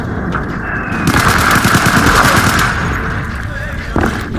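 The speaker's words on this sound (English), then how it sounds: "Artillery everywhere." Rapid bursts of artillery and automatic gunfire boom loudly in the combat game Firearms: Source, a dense barrage peaking in the middle and easing toward the end, with a voice briefly heard beneath.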